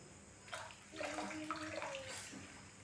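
Water runs and splashes softly into a container, faint and close, with a brief murmur of a voice in the background.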